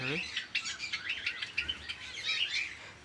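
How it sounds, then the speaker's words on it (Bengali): Java sparrows, Bengalese finches and Australian doves call in an aviary, with a dense run of close, loud, repeated chirps and tweets filling the whole stretch. "দেখুন, জাভা, প্রিন্স, বেঙ্গলি আছে, আর এদিকে অস্ট্রেলিয়ান ডাব"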